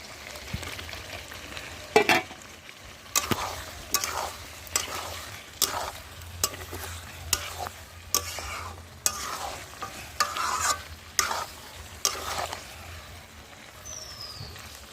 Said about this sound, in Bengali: এর মধ্যে আমি এবার আলুগুলো দিয়ে দেবো।